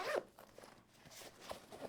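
A zipper is pulled on a pocket of a Discmania Expedition disc golf bag, which has double zippers on both its upper and lower pockets. A close, raspy burst at the start gives way to quieter scratchy zipping.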